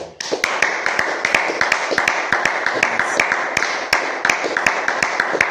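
A church congregation claps in steady, rapid unison to acclaim the Lord, sharp repeated hand strikes close and loud throughout.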